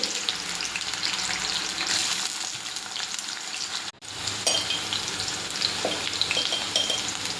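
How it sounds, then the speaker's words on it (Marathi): Potatoes frying in hot oil in a kadai wok, a loud, continuous close sizzle with crackling spatter throughout and a brief dip partway before the hiss resumes. "तेल तापलं की त्याच्यामध्ये बटाटे टाकून घ्यायचे आहे."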